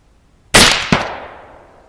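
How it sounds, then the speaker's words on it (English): An Avenger air rifle shot sets off a Firebird exploding target outdoors. Two sharp, loud bangs land a split second apart, followed by a fading echo tail. "Firebird detonating targets are always a lot of fun."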